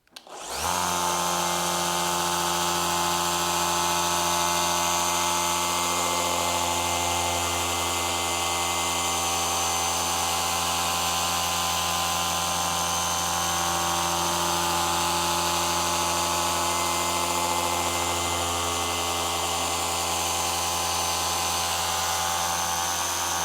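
Paint correction polisher whirring steadily on a brand new Tesla Model Y, a loud continuous motorized drone that starts abruptly and holds an even pitch throughout.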